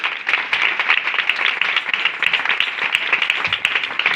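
A worship congregation breaks into loud, sustained applause, dense overlapping hand claps filling the room at close range with no talking over them.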